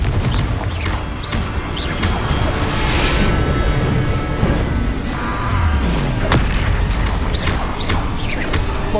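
Confringo and Bombarda spell blasts in Hogwarts Legacy land as a rapid, dense barrage of loud crashing explosions and heavy thuds, booming continuously with no pause over game noise.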